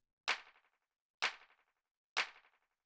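Three identical short, crisp hand clap drum hits for minimal house, evenly spaced about a second apart, each with a quick decaying tail and silence between.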